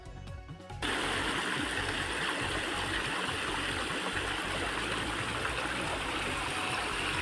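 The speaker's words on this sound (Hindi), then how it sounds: "ये नहर फूटने के कारण पूरा पानी भरा हुआ है, ये बह रहा है, पूरे खेतों में पानी भर गया है" Water pours from a breached canal into flooded farm fields planted with potatoes, a loud, steady rushing flow that starts abruptly and then continues unbroken, close by and with no talk over it.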